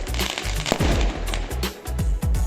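Firecrackers go off in rapid, loud bursts, one after another, with crackling pops filling the air throughout, during celebrations of the Ayodhya Ram temple inauguration.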